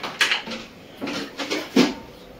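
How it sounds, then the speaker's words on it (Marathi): Pots and pans clatter and scrape in a home kitchen sink while dishes are scrubbed after cooking khichdi, with several short bursts of clinking metal spaced over a couple of seconds, close and moderately loud. "आता ही भांडी घासून घेते."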